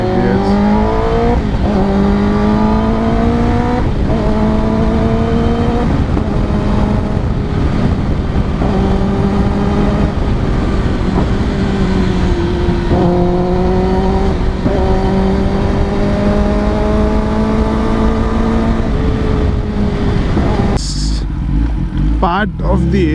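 A 2022 Kawasaki ZX10R superbike rides past on a public road, its loud exhaust repeatedly winding up through the gears in rising, rasping sweeps, with voices faintly underneath.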